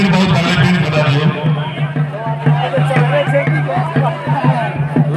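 Crowd noise at a village wrestling dangal in Mithila, a dense, steady babble of many voices with shouts rising from it, loud and close throughout.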